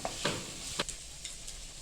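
Tomatoes softening in a hot spice tempering for dal fry, giving a faint, steady sizzle with a few short scraping stirs of a spoon in the pan.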